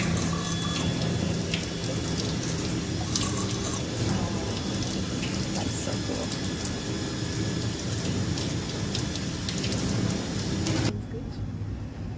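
Plant roots being washed in water, a continuous loud splashing and running-water rush that fills the clip and then drops abruptly near the end.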